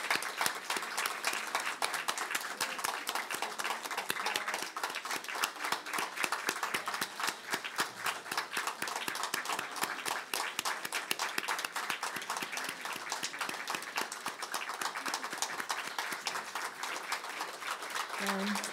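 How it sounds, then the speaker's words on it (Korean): Congregation at a Christmas church service claps steadily and vigorously during a flower and gift presentation, a dense, unbroken patter of many hands sustained for a long stretch. "우리 축복의 박수를 힘차게 보내주세요."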